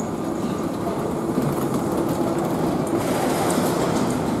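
A continuous low rumble of trains fills a Tokyu line platform at Shibuya station in Tokyo, a steady mechanical drone with faint clacking and no voices.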